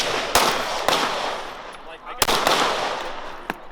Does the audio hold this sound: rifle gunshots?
yes